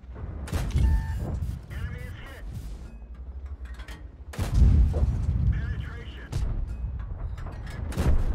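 Tank cannon shots in World of Tanks, heavy booming blasts with mechanical rumble; several loud reports land through the stretch, the strongest midway, with a voice talking over the battle.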